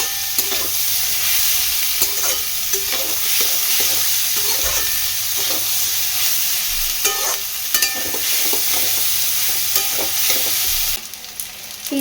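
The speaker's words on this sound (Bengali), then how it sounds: "দিয়ে পেঁয়াজটাকে ওর সাথে ভাজবো।" Onions fry with vegetables and turmeric in a pan: a continuous sizzle runs under repeated scraping stirs, and a brief sharper burst comes near the end. No voices are heard.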